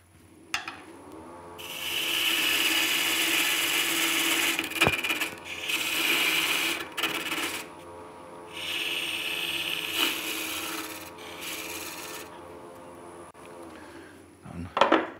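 A steel parting tool cuts into wet alder wood spinning on a lathe, producing loud, rough scraping and rasping bursts that start and stop several times, with quieter pauses and knocks between cuts.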